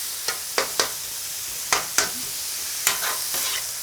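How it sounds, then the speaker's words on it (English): Flank steak sizzles on a flat top griddle in a steady, bright hiss, broken by sharp, uneven metal spatula scrapes and chopping clacks, close up with no talking. "going to mix it up here with that flank steak. And give it some chopping at the same time."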